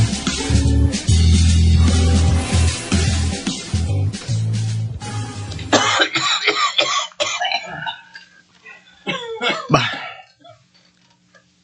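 An elderly woman's heavy coughing is heard in a radio drama about a provincial jail, as a few harsh coughs and throat sounds after loud music, with a brief spoken word.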